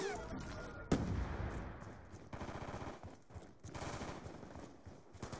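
Rapid gunfire crackles through a video game firefight, with a sharp shot near the start and then bursts of automatic fire rattling on and off at moderate distance.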